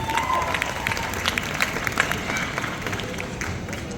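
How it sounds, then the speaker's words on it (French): A live audience at a French voice-dubbing stage event claps and cheers briefly, a fairly loud burst of applause that gradually settles, with crowd murmur mixed in. "on peut l'applaudir très très fort"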